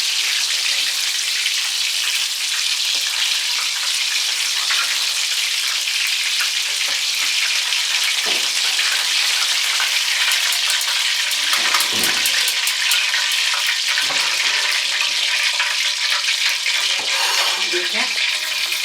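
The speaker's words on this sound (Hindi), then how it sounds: "ये कोफ्ते डीप फ्राई हो गए हैं।" Chicken koftas deep frying in hot oil give off a dense, steady sizzle and crackle that runs loud and unbroken throughout, with occasional soft bubbling pops.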